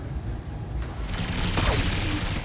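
Rapid machine gun fire rattles in the BattleTech mech combat game, a dense continuous fusillade with a booming impact, loud and without talk.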